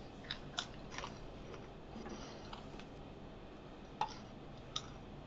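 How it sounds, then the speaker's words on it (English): Someone crunches a pretzel near the microphone: scattered sharp crisp bites and snaps, faint but distinct, over a quiet room background with a television running elsewhere in the house. "Crunching a pretzel."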